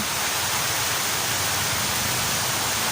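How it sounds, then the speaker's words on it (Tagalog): Heavy rain falling steadily outdoors where weeding is being done, a dense, even hiss of downpour that stays loud and unbroken throughout, with no voices over it. "Malakas yung ulan eh."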